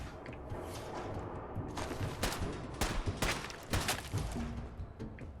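Rooftop gunfire in Fallout 4, a busy run of sharp shots and thuds firing in irregular bursts at fairly close range, with no talk over it.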